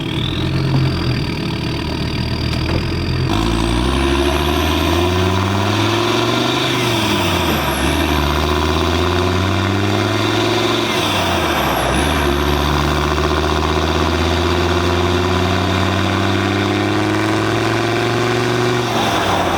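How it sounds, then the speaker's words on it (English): A Land Rover Defender with a full exhaust system pulls under load on a road test. The deep engine note rises and falls through several revs while a high turbo whistle sweeps up and down above it, loud and close, with no talking. "you can hear the turbo loads more, which is sick"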